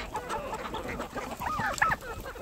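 Crowd of free-ranging chickens clucking and squawking on a farm with ducks, turkeys and guineas, a dense, continuous chorus of overlapping calls with a few louder squawks standing out near the end.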